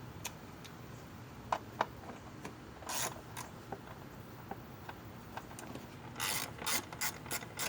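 Ratchet wrench with an 8mm socket on an extension, turned during alternator replacement on a 2004 Chevy Tahoe, gives faint scattered clicks and then a rapid close burst of ratcheting near the end, with no talk.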